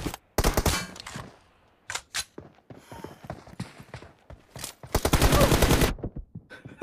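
Rapid bursts of gunfire from the mobile shooter Free Fire during a 1v1 team deathmatch, loud automatic volleys in several clusters separated by brief pauses, with a long sustained burst near the end.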